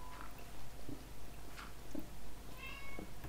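A cat meows repeatedly in Minecraft, short mews spaced about once a second against a low steady game hum, quiet and close.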